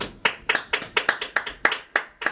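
Polite applause from a live comedy audience in Edinburgh, a steady patter of clapping hands with no whoops or cheers, fairly close and moderately loud.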